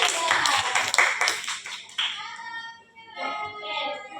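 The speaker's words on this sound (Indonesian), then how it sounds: "Beri tepuk tangan untuk Yulia." A classroom of students clapping for a classmate during a lesson, a brief burst of hand claps that fades within about two seconds, followed by quieter room sounds and faint voices.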